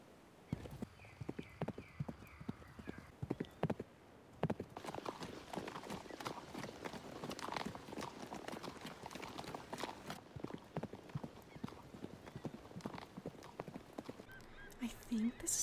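A horse being ridden clip-clops with steady hoofbeats close by, the rhythm shifting through its gaits, with occasional voices talking over it.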